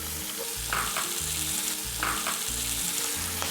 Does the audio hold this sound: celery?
yes